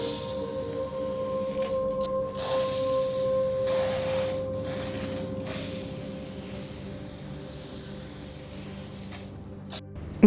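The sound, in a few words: spray painting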